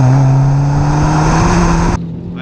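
A Renault Mégane 4 GT pulls hard in third gear, its engine note rising steadily and loud up close, then suddenly easing off as the throttle lifts.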